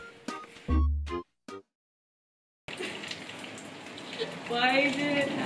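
Steady rain patters onto a surface outdoors after a quiet stretch, a close, continuous hiss with a few brief voiced sounds at the start before it.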